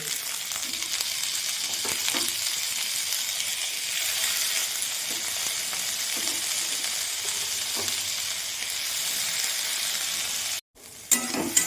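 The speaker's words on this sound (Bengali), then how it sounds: "ডালটা দিয়ে আরও আমি কিছুক্ষণ ভাজা ভাজা মতো করে নেব।" Washed lentils and a few peanuts fry in oil in a pan for sabudana khichuri, a dense, steady, close sizzle with occasional stirring taps that stops abruptly near the end.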